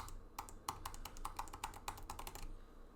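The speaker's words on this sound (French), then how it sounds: "Et on va appuyer sur les touches." Computer keyboard keys are pressed in a quick, irregular run of crisp taps over about two and a half seconds, close and moderately loud against a low background hum, with no talking.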